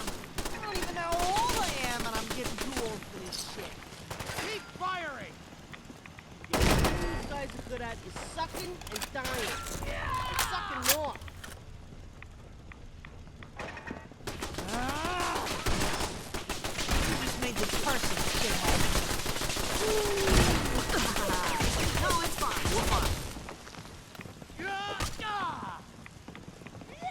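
Fallout 4 gunfire crackles in dense, sustained bursts with sharp louder shots, mixed with shouting game voices throughout a busy combat scene.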